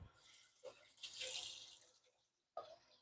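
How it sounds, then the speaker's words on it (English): Hot water runs from a kitchen tap for a beef stew, a steady splashing gush for about two seconds that tapers off, then starts again briefly near the end, with no talk over it. "Let me get some hot water for that and heat it up."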